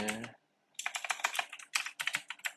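Rapid clicking keystrokes on a computer keyboard while code is copied and pasted, close and crisp in two quick bursts after a brief spoken word at the start.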